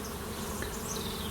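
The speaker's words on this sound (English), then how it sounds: "Other bees just fan everything in and it comes out the top." Honey bees fan air at a hive entrance, a soft, continuous, even buzzing hum from many wings close by.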